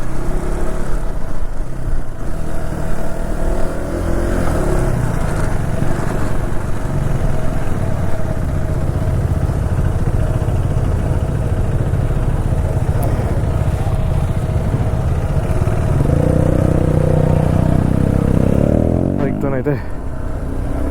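A KTM Adventure 390 motorcycle cruising at around 70, giving a steady, loud roar of engine and wind rush throughout, with a rider talking over it the whole time.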